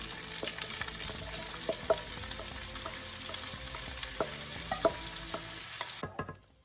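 Frozen vegetables fry in hot oil with a dense sizzle and frequent spatula scrapes and taps against the pan, close and steady, until the sound cuts off abruptly near the end; no talking.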